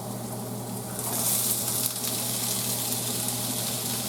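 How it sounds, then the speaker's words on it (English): Canned great northern white beans and black beans are rinsed under a running kitchen tap, giving a steady, close water hiss with no pauses. "you want to rinse off your beans because you don't want the stuff in the can"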